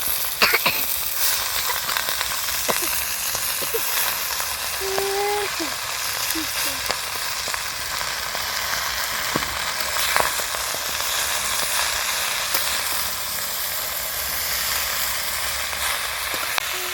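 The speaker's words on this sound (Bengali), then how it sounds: "তো মটরশুঁটি খুব ভালো করে ভেজে নিয়েছি, এবার দেবো শাক।" Peas and bathua greens fry in a pan with a steady, close sizzle that runs the whole time. Occasional clinks and scrapes of stirring come through, and a few brief tones rise above the crackle.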